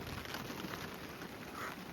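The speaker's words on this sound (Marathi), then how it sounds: "पाऊस पडतो ना बारीक बारीक" Light, fine rain falling steadily outdoors, a soft continuous patter with no voices and no pauses.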